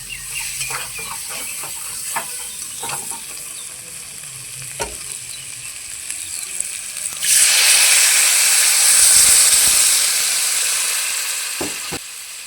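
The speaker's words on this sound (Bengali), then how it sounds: "পরিমাণ মতো আমি ঝোলের জন্য জল দিয়ে দিই" Water poured into a frying potato and arum curry in a kitchen pan, first a scraping stir, then a sudden loud rushing hiss and sizzle that holds steady and slowly settles.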